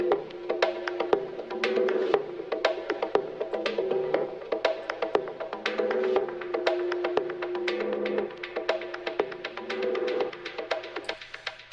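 Bongo sample run through delay and reverb, a dense stream of hand-drum hits with echoing repeats smearing between strikes over a low steady drone, moderately quiet and continuous with no talking.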